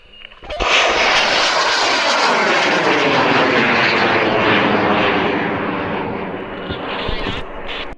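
The Ringo 1 rocket lifts off and flies with a loud, broad roar that surges in abruptly, holds steady, then slowly thins and fades as the vehicle climbs away.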